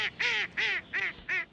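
A duck quacking four times in a steady rhythm while bread is tossed to it; loud, nasal, close calls separated by brief quiet gaps.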